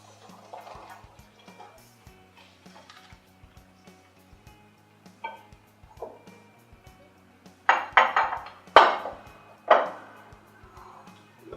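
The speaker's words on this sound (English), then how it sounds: "Just stir that with a spoon" A spoon scrapes and clinks against a bowl while vanilla is stirred into a wet mixture for zucchini bread, light scattered taps at first, then several louder, sharper clatters near the end, close and otherwise quiet.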